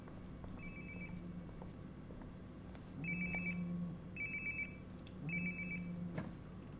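A cell phone rings in Life is Strange: Before the Storm, its electronic trill repeating in short bursts over a quiet, steady room ambience, fairly close and clear, with no voices.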